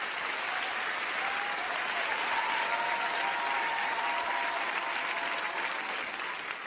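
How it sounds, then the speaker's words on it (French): An audience applauds musicians at a live show, a dense, sustained clapping that stays loud and even throughout before easing slightly at the end. "j'aimerais ça qu'on applaudisse les musiciens parce qu'ils sont franchement top"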